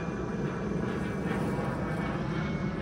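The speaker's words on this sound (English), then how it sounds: "What's with all the planes?" Airplanes fly overhead outdoors near beehives, a steady broadband engine roar that stays constant and fairly loud for the whole stretch, with no talking.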